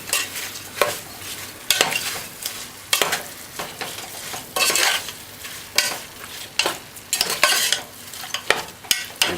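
Seasoning fries on high heat in a pot for Jamaican-style stew peas, a steady sizzle broken by repeated scraping stirs of a utensil against the pot, close and clear with no talking.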